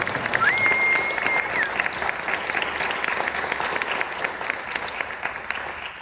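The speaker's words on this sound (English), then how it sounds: "how about another round of applause for this wonderful jazz ensemble?" An audience claps steadily for a student jazz ensemble, a dense wash of applause that is strongest at the start and slowly tapers off, with a brief whistle early on.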